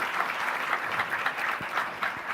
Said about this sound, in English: So a big round of applause for Neeti also.